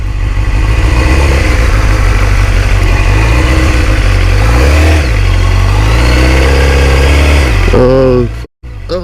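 Motorcycle engine revving up and down steadily up close, its pitch rising and falling in several surges before a brief cutout near the end; no talk over it.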